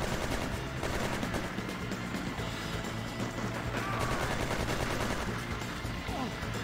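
Sustained machine gun fire from the Just Cause video game sounds as a dense, continuous roar of rapid shots with crashing noise. It stays loud for the whole stretch.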